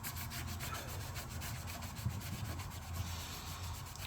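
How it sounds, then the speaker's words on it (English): A towel rubbing back and forth along a Harley Benton DC-600 VI guitar fingerboard, a soft, steady scrubbing swish with a rhythmic texture, close and fairly quiet, with no talking. "and just wipe and clean up."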